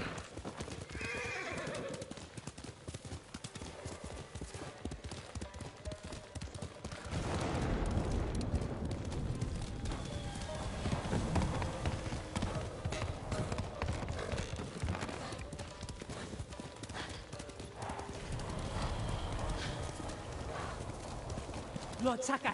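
Horse hooves clip-clop at a gallop in the video game Ghost of Tsushima, a dense rapid rhythm throughout, with occasional whinnies, background game sounds and someone speaking over it.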